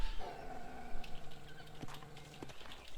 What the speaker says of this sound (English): Do you hear her growling?